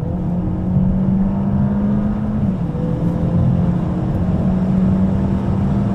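A 2021 Peugeot 508 PSE performance hybrid cruises at 160 km/h, its cabin filled with a steady, even road and engine drone that holds unbroken for the whole stretch, with no voices.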